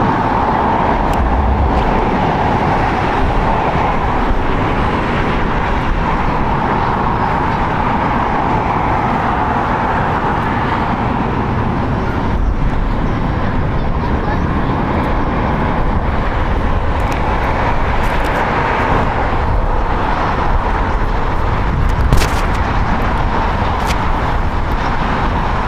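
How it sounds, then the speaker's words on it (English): Loud, steady broadband roar of a 19-year-old Delta Air Lines Airbus A320 jet departing from the north side at LAX, a continuous engine rumble holding at constant level throughout. "Departing on the north side, Delta Airlines Flight 1434 going to Salt Lake City. It's Airbus A320, 19 years old."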